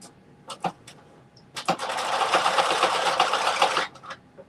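Sewing machine that still needs rethreading stitches fabric for a headband: a few light taps and clicks, then a steady two-second whirring run up close.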